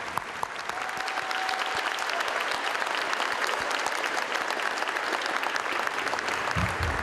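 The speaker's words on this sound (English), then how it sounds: "let's finish with one more round of applause for our graduates tonight" Graduation ceremony applause for City Academy graduates: a sustained, dense round of clapping from a crowd, steady and fairly distant, holding level for several seconds with no talk.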